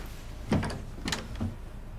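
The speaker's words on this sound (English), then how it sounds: "Shut the door." An interior door is shut with a brief thud and rattle, followed by a couple of fainter knocks, heard close by in a quiet room.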